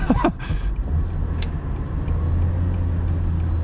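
A cheap, fully repaired Mercedes CLK drives along with a steady low engine and road rumble from inside the cabin, plus a brief sharp click and clatter near the start.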